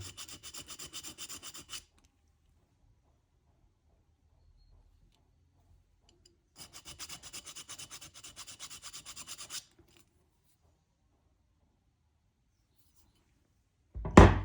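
A needle file rasps across a piece of soft, brass-like metal in two close, steady bursts of rapid scraping strokes separated by silence, ending with a brief loud knock.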